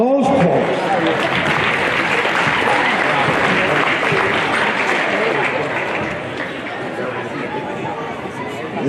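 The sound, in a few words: crowd applause for tournament volunteers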